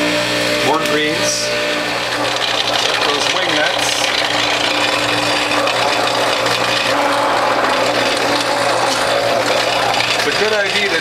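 A juicer's cutter grinds celery, collards, beet with tops, French sorrel and other greens in a loud, steady mechanical whir that runs without a break the whole time, with a few faint squeaks.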